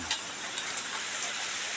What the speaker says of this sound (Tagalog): Wala pa rin humpay ang ulan dito sa amin.